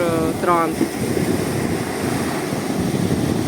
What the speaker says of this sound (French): Votre première vague, elle est grande